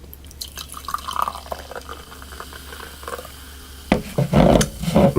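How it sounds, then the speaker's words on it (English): NOS Energy Zero drink is poured from a can into a glass, starting with faint trickling and dripping and then turning into a louder, gushing, fizzing pour in the last second or so. "Let's pour it out."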